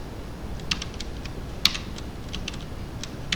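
Code is typed on a computer keyboard in short, irregular bursts of light key clicks, close but fairly quiet, with one sharper keystroke standing out and no talking.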